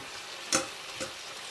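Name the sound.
bacon and beans frying and being stirred in pan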